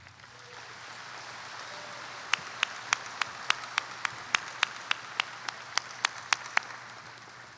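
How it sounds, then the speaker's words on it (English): Graduation ceremony audience applause for the platform party swells from quiet to a steady roar, with one nearby person clapping sharply and loudly in a fast, regular beat over the crowd. "please join me in a round of applause for them"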